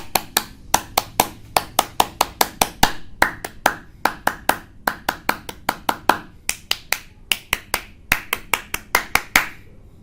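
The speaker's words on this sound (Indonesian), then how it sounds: "3 kali tepuk pramuka." Indonesian Pramuka scout group claps out the traditional rhythmic pattern, crisp close hand claps falling in repeated quick groups of three, steady and unaccompanied by speech for ten seconds.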